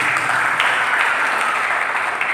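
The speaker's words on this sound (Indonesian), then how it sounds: "Berikan tepuk tangan bagi Dia." A church congregation applauds steadily during a worship service, dense clapping at a constant level throughout with no break.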